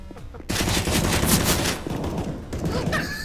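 Rapid bursts of gunfire from a Counter-Strike match fill the clip, loud and dense from about half a second on, with overlapping shots and brief pauses.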